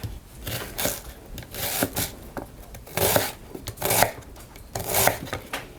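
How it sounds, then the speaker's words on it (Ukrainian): A knife cutting an onion into half-rings on a board, with repeated rasping slices and soft thuds in an uneven rhythm, close and fairly loud. "Тим часом ми можемо нарізати цибульку. Цибульку можемо різати півкільцями."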